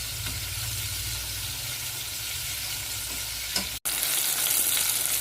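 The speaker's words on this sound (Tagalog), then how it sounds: "Continue frying until the chicken, the coated chicken is finished." Coated chicken deep-frying in hot oil for orange chicken, a steady close sizzle that runs continuously, briefly cut off by a sharp gap before resuming with a brighter crackle.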